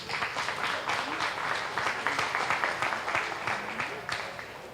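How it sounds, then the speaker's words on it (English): A crowd at a junior dairy cattle show applauds sponsors, a moderately loud, continuous patter of many hands clapping with slight swells, heard at a middle distance in a show ring setting. "We have a round of applause"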